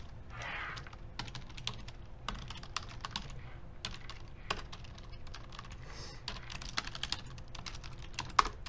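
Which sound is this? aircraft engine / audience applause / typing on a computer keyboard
typing on a computer keyboard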